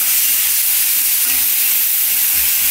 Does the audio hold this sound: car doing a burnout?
no